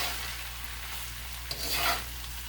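Shrimp fried rice frying in a wok gives a steady, quiet hiss with a faint low hum beneath, and a brief clink and soft scrape of stirring midway.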